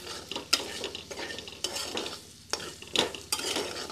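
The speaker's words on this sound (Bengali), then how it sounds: "লো হিটে একটু নেড়ে নেব" Fried potatoes and ginger are stirred in a pan over low heat, giving a series of scraping, clattering utensil strokes against the pan over a faint sizzle, with no talking.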